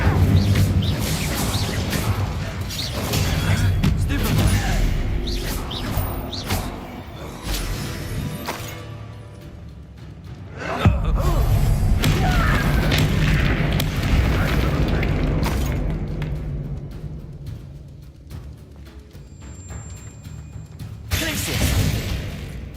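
Fiery spell blasts from a wizard video game, a dense roaring rumble of booms and crackling bursts that swells and surges across the stretch, with sharp impacts punctuating the continuous loud din.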